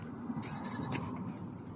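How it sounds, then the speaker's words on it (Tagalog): A goat bleats close by, a wavering cry with a couple of quick pulses, heard on its own. "Oh, may kambing pa sila."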